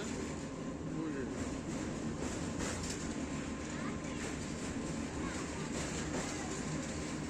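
A local train on the Howrah to Digha line crosses the Rupnarayan river bridge, giving a steady, dense rumble with faint clatter throughout, heard from inside the carriage.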